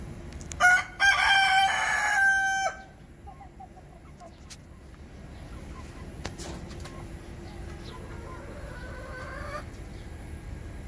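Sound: chickens clucking and rooster crowing at backyard chicken coop

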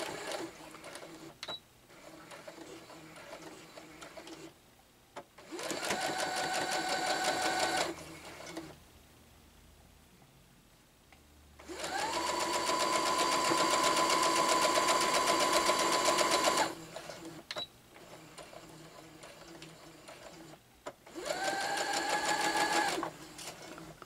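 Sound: sewing machine stitching a Churn Dash quilt block

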